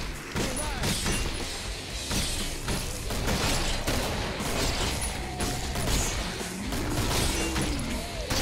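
A door being welded shut in the zombie shooter Killing Floor, with sizzling, crackling noise under repeated heavy smashes, thuds and metallic clanks from attackers, busy and loud throughout.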